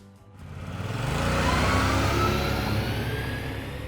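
A simple snowmobile with a 29 HP engine and CVT revving as it rides off, a steady droning engine note that climbs and holds with a rising whine, fairly distant and alone.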